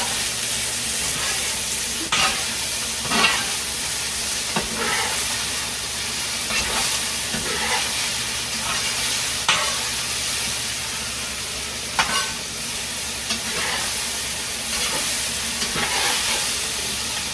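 Sausage-flavored food frying in a pan on a burner turned up high, a continuous loud hissing sizzle with scattered stirring clicks and pops, close and unbroken by speech.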